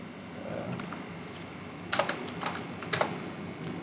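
Keys tapping on a computer keyboard while writing code, faint scattered strokes at first, then a few sharper clustered bursts of clicks, close and alone.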